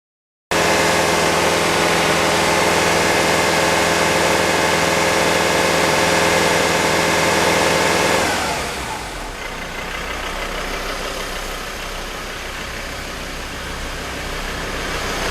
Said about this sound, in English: That just stopped revving. Yeah, that just fired again on us.